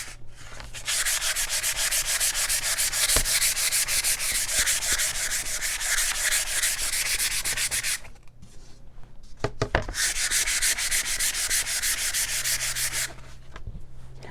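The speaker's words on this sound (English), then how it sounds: "And I just start sanding, rubbing on the sides, and rubbing over the whole piece." Sandpaper worked over a wooden country cabinet in steady up-and-down strokes, a continuous scratchy rasp that stops briefly partway through, then resumes with a few knocks before ending.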